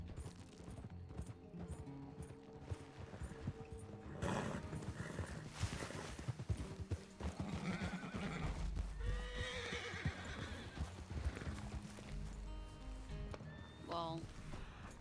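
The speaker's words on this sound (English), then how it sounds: "Well, there's horses" Horses whinny loudly over the thud of galloping hooves, with game-like background music and occasional talking underneath.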